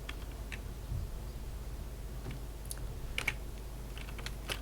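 Sparse, quiet keystrokes on a computer keyboard while entering settings on a Linux machine, a few scattered clicks with a short cluster near the end, over a low steady room hum.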